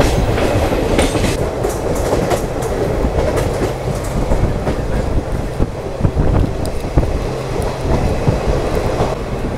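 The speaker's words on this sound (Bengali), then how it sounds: "আমাদের ট্রেন এখন ঢুকছে মহারাজপুর স্টেশনে" A passenger train entering Maharajpur station on the line from Rampurhat Junction, with a loud continuous rumble and clickety-clack of wheels on rails over nearly ten seconds, no talk.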